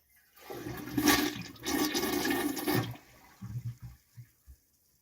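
An old iron Crane toilet flushes in a house, with a loud rushing gush of water over about three seconds, then quieter gurgles and a few trailing drips as the bowl settles.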